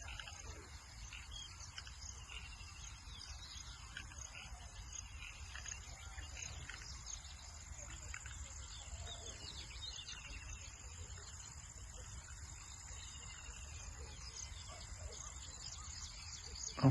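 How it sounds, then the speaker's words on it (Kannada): Farm in the rainy season with birds, goats, sheep and frogs around; a steady dense chorus of insects and croaking fills the background, with faint scattered bird calls, continuous and fairly distant, no talk. "ಪಕ್ಷಿಗಳು, ಮೇಕೆ, ಕುರಿ,"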